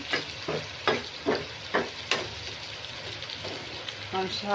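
Mustard seeds hit hot oil in a frying pan, producing a close sizzle with a series of sharp rhythmic scraping or stirring strokes, and voices are present faintly underneath.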